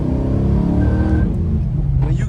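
A Box Chevy with a 408 stroker V8 engine runs loud and close, a deep, smooth, steady rumble that shifts pitch slightly as it rides under someone talking.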